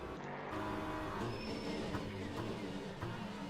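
Onboard engine of a BMW race car for Team WRT in Le Mans Ultimate at Circuit de la Sarthe, a steady loud drone with shifting pitch, a faint commentator voice beneath.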